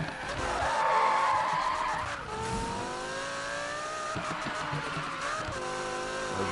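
Car drifting in the Need for Speed racing game, with long continuous tire squeal over a revving engine, loud and steady for several seconds with pitch that rises and falls.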